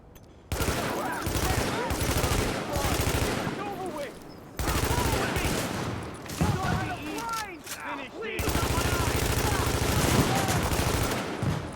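Sustained bursts of automatic gunfire from a firefight in the video game The Division, loud and continuous with brief pauses between volleys, a voice talking intermittently over the shooting.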